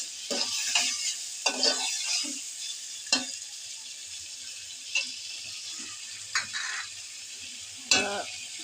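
Two potatoes stirred and fried in a pan, giving a steady sizzle with repeated scraping stirs and sharp clinks of the utensil against the metal at irregular intervals.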